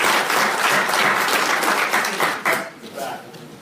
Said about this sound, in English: So give yourselves a round of applause and thank you.